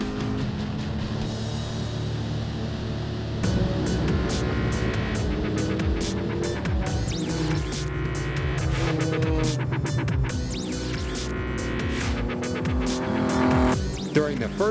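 Race cars lap a road course at Ridge Motorsports Park during a Lucky Dog Racing League endurance race, engines droning steadily with faster cars rushing past, gear changes and a brief tire squeal under a continuous loud mix.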